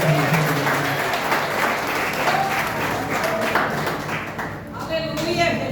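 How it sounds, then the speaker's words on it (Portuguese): A church congregation claps and applauds during a worship service, with steady, dense clapping all the way through and a preacher's voice speaking over it. "uma salva de palmas para o Senhor Jesus."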